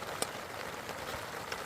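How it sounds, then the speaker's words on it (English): Heavy rain lashing down outside a tent at a wild camp makes a steady, soft, hissing patter with a few sharper drop hits. It stays fairly faint throughout, and no one talks. "Obviously you can hear that rain. It is lashing it down outside."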